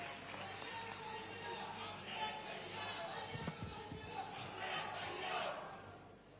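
A large crowd at an outdoor public ceremony in Amarwara, Chhindwara, welcomes a newly elected legislator with a steady, dense roar of cheering, clapping and shouting. The sound is continuous and somewhat distant, with mixed voices throughout and no single clear voice.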